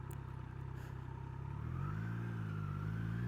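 Motorcycles roll past on a Thursday bike night, a steady mid-distance engine drone that swells and shifts in pitch as a bike goes by, continuous throughout with no talking.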